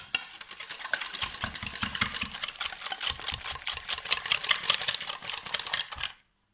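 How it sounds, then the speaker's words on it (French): Homemade mayonnaise whisked vigorously by hand in a bowl, a fast continuous rattling scrape of the whisk lasting about six seconds, close and steady, then stopping abruptly. "on va fouetter beaucoup plus énergiquement"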